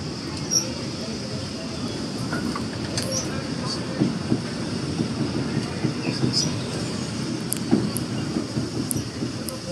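A theme park railroad train rolls steadily with a continuous low rumble and occasional clicks and squeaks from the wheels and cars, while an announcer's voice speaks over the ride.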